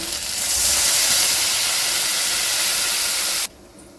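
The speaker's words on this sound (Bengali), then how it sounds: "দেখুন ঝোলটা কিন্তু বেশ ফুটতে আরম্ভ করে দিয়েছে" A fish and kohlrabi curry broth starts to boil in a pot on a gas flame, giving a loud, steady close hiss and bubbling that cuts off abruptly near the end.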